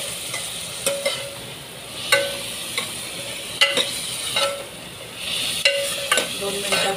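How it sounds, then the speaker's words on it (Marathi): Chopped tomato cooks with onions in a pan for dal dhokli, giving a low sizzle broken by a series of distinct spatula taps and scrapes against the metal, close and with no speech. "आता आपण हा चिरलेला टोमॅटो घालतोय."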